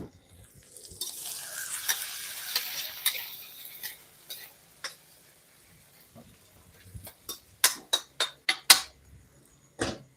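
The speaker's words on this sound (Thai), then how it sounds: "มีหอมแดงมีพริกมี นะครับเครื่องที่ผมกำลังผัดนะครับผม" Shallots and chili paste stir-fried in a pan: a soft sizzle early on, then sharp scraping and tapping strikes of a utensil against the pan, clustered near the end, close and without speech.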